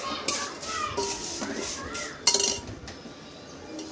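A spoon scraping and clinking against a pan while stirring vermicelli roasting over a low flame for semiya payasam, with scattered metallic taps and one sharper clink, close and moderately loud.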